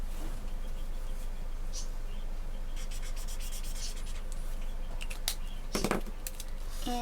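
Pen scratching and rubbing across paper while writing in a B6 Journey planner, steady close strokes with a few brief rustles near the end.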